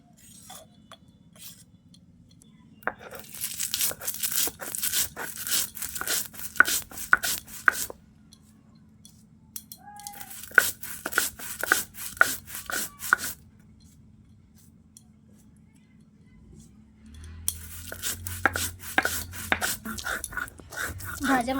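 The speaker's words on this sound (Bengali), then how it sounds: "ভাজা মশলাটাকে এবারে বেটে নেব।" Fried spices ground by hand on a grinding stone, giving bursts of rough, rhythmic scraping and knocking strokes that come in three separate runs with short quiet pauses between them.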